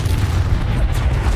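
A spell blast from Hogwarts Legacy goes off as a deep, booming burst, with a continuous low rumble filling the short moment.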